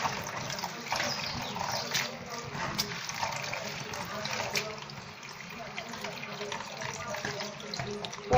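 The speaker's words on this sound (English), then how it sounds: "I'm gonna be washing my water leaf at the moment." Water leaf being washed under a running kitchen tap, with steady splashing and trickling water throughout.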